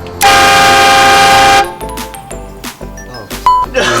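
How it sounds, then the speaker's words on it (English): A train horn mounted in a stroller blasts one long, very loud sustained note, then cuts off, leaving scattered shorter honks and bangs with people reacting nearby. "let the train horns begin"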